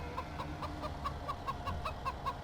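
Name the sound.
chickens clucking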